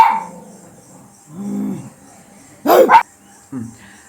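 A dog gives a couple of short barks and a low whimper-like yip between quiet pauses, heard close by and fairly clear.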